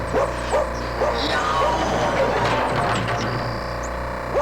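A cartoon dog barks several times in short bursts over a busy, noisy background of cartoon sound effects and music.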